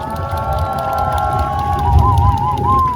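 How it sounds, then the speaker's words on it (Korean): Crowd at an outdoor impeachment rally on Yeongildae Beach in Pohang cheers and applauds, a loud mixed roar of clapping and shouts, with a sustained tonal sound wavering over it from about halfway through. "다시 뜨거운 박수로 보내주시면 고맙겠습니다"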